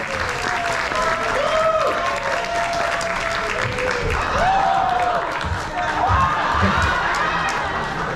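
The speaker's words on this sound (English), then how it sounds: "Come to get your applause." A crowd at a cruise-ship party for Diamond and Platinum guests on a Mexican Riviera cruise claps and cheers for the departing cruise director, the applause steady while a voice talks over it and whoops rise and fall.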